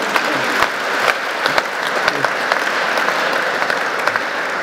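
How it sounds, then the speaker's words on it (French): Thunderous audience applause in a theatre hall, a loud, dense and sustained wash of clapping from a large crowd with occasional sharper claps, steady from start to end. "dans un tonnerre d'applaudissements"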